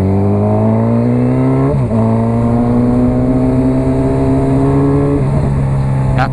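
Honda CB1000R motorcycle fitted with an aftermarket exhaust, its engine revving loudly and steadily while being ridden, pitch climbing through two gear changes with brief dips between pulls, no speech.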